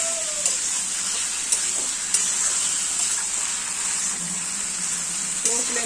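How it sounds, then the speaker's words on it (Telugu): Chicken pieces coated in salt, chili powder and turmeric frying in oil on low flame under a lid give a steady, close sizzle with faint stirring taps throughout. "కొంచెంసేపు మనం మూత పెట్టేసి చూడండి చికెన్ బాగా నూనెలో ఫ్రై అవుతుందండి।"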